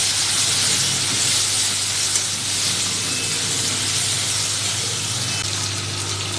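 Green chillies and potatoes frying with salt and turmeric in hot oil, a steady, loud, broad sizzle and hiss that continues without a break throughout.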